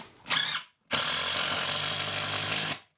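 A power driver sinks short structural screws into a wall-mount bracket for a 100Ah LiFePO4 battery: a brief burst, a pause, then one long steady whirring drive about two seconds, close and loud with no talk.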